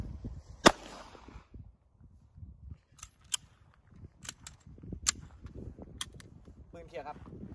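Guns are fired at an armor plate from 10 yards: several sharp, loud cracks spread across the clip with gaps between them, and someone talks in between the shots.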